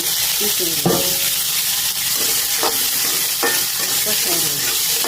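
Shing fish with new potatoes and chopped onion being stir-fried in oil, a loud, continuous sizzle with occasional spatula scrapes against the pan.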